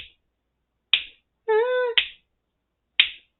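Sharp, dry clap sample in Reason 12 Studio repeating as a loop, struck about once per second, with a short bowed-violin-like tone sitting between two of the hits.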